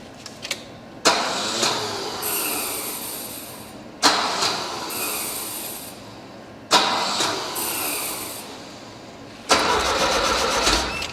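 A Volvo P1800, parked for 25 years, cranks repeatedly in four separate bursts, each starter whir catching into a brief rough firing that fades, heard up close with no talking.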